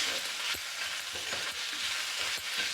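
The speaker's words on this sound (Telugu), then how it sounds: "వేయించడం ఎప్పుడైనా అల్లం వెల్లుల్లిపాయ ఆయిల్లో వేసి వేయించడం దగ్గరుండి చూడడం మంచి వాసన" Ginger and garlic fry in hot oil with a soft, steady sizzle, and a few quiet stirring knocks in the pan come through at uneven intervals.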